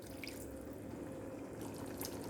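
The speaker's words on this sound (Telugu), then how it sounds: "కొంచెం నీళ్ళు వేసుకుంటున్నాను." A little water is poured into spicy chicken curry frying in a pan. Brief drips and splashes sound over a steady sizzle, close and fairly quiet, lasting only a couple of seconds.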